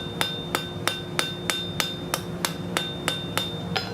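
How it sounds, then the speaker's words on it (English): Hammer tapping a hand-forged branching iron scroll against the angles of an anvil: about a dozen sharp, ringing metallic strikes at a steady, even pace, close and clear with no talking. "we're just going to keep tapping that, working the angles of our anvil"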